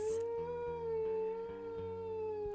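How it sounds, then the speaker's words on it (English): Wolf howls from the video game WolfQuest, a long sustained tonal howl holding a steady pitch with layered harmonics, loud and continuous over a faint low background rumble. "Let's do some howls."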